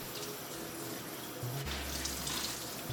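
Water runs steadily from a tap as soy-milk-soaked fabric is rinsed, a continuous close splashing wash with a low gurgle that deepens partway through.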